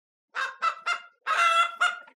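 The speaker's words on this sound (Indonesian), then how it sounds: "Ayam ini bertelur banyak." A hen brought as a gift gives five loud, close, honking squawks in quick succession, with the fourth call longest, each separated by brief silence.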